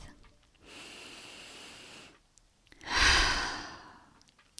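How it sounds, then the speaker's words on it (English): A deep breath drawn slowly in through the nose, then a pause, then a louder, longer breath pushed out in a sigh, close and alone. "take a deep breath"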